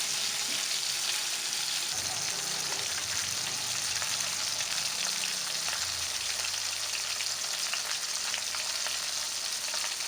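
A pork chop fries in a pan, giving a dense, steady crackling sizzle that runs unbroken and fairly close throughout, with no voices over it.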